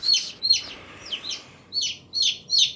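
Chicken calls near a home, with six short bright clucking bursts in an uneven rhythm, moderately loud against a quiet background with no talk.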